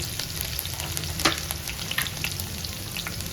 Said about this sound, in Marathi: हिरवी मिरची हे मिक्स करून घ्यायचं आपल्याला परतून घ्यायचं